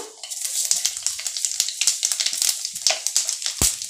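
Panch phoron spices tempering in hot oil for a tomato pickle crackle and splutter up close, a bright sizzle dotted with rapid sharp pops and spits, with no talking.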